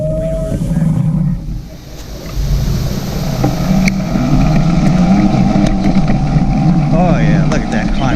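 RFN Apollo Rally Pro electric dirt bike in its most powerful mode climbing an enduro trail, with a steady loud motor whine and wind rush throughout, rising slightly midway, and a rider's voice speaking over it.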